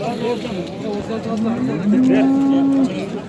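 Cattle at the Özgön livestock market give one long, loud, low moo close by, lasting about a second, over steady crowd chatter and voices.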